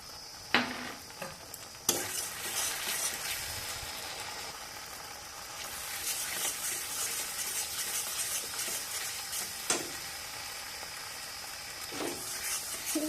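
Spices with salt and ground black pepper frying in a pan for a Bengali fish curry with mutton, with a quiet continuous sizzle and a few sharp spatula knocks and scrapes, fairly faint.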